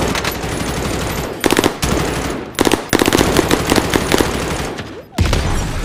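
Automatic gunfire in Call of Duty Warzone, loud close bursts of rapid shots with short pauses between them, under a game soundscape.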